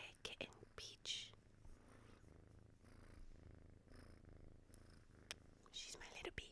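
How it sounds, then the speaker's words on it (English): A kitten named Peach purring close to the microphone, soft and rhythmic, beneath a quiet whispered voice and a few light rustles. "if you hear purring, this is my kitten Peach."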